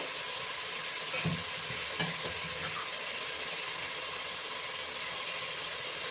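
Minced mutton keema frying in oil in a pan, a constant bright sizzle with a few scraping stirs near the start, close and steady.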